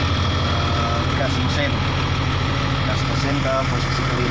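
A Case 2050M bulldozer engine runs at a steady, loud diesel idle throughout, a constant low rumble up close with no change in pitch.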